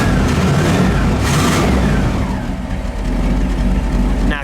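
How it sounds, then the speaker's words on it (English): A 1957 Cadillac Eldorado Biarritz convertible's engine revs up loud and close, a steady throaty roar rising and falling through the whole stretch with faint voices in the background. "Go ahead, give it a rev, Paul."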